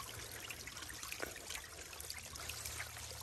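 Water trickles in a small cave pool in the Florida Everglades, a faint, steady dribble with scattered drips heard up close and alone.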